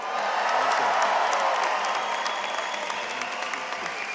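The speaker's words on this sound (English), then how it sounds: "let me hear you cheer." Families at the 2024 Troy High School commencement break into loud cheering and applause, a dense crowd roar with whoops that holds steady and eases slightly toward the end.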